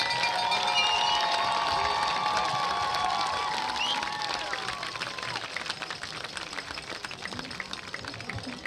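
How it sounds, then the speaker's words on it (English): A crowd at a high school varsity football game cheers and claps for the 50th anniversary of an undefeated 1972 team, with whoops and whistles over the applause before it thins into scattered clapping and crowd murmur. "How about a big round of applause on the 50th anniversary of our 1972 undefeated Montague"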